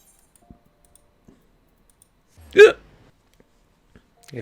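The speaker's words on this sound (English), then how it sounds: "Even more hiccups." A single sharp hiccup from a character in Final Fantasy 14 sits amid near silence and a few faint clicks.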